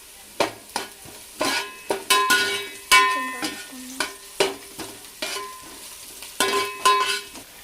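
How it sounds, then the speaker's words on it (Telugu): Onions with masala frying in oil while being stirred, sharp rhythmic scrapes of a spatula against the pan over a light sizzle, repeated strokes close up and distinct, no speech. "బ్రౌన్ కలర్ వచ్చే వరకు వేయించుకుందాం ఆనియన్స్ని."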